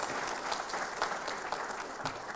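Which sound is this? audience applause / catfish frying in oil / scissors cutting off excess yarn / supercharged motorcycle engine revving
audience applause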